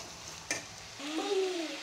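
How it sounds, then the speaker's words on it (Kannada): Bitter gourd pieces frying in hot oil, a steady close sizzle that swells into a louder crackle midway, with a short clatter of stirring near the start and no voices. "ಇದೊಂದು 2 ನಿಮಿಷ ಆಯಿಲಲ್ಲಿ ಫ್ರೈ ಆಗಬೇಕು"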